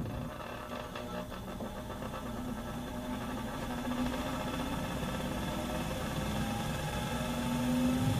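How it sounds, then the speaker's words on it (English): A laboratory benchtop centrifuge with unevenly loaded test tubes runs unbalanced, giving a steady droning hum with a rattling vibration that slowly grows louder and a rising whine near the end. "When the test tubes inside aren't evenly distributed, the centrifuge is unbalanced."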